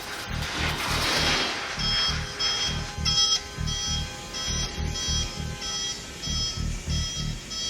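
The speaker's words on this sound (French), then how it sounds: "Ici, l'alarme, elle alerte du danger" A spacecraft alarm in a film beeps in rapid, pulsing, steady repeated bursts, loud and insistent, with a shrill tone over a low buzzing throb.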